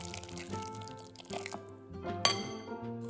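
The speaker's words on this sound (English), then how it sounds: "Then mix everything together thoroughly." A shrimp, egg white and scallion filling is stirred in a bowl, the utensil clinking and scraping against the bowl in irregular knocks amid soft wet mixing sounds and background music.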